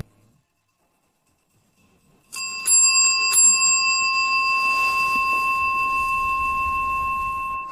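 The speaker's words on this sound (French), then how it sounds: "Il fait sonner la cloche plusieurs fois pour montrer à Jacques qu'elle fonctionne" A hand bell is rung several times after a quiet start, its bright clear ringing tone repeating and sustaining over a steady rustle of background noise, fairly close and loud.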